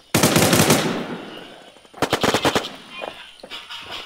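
Rapid bursts of super machine gun fire in the online survival shooter Infestation, a loud sustained volley followed by shorter, sharper bursts on a stronghold map, with no talking.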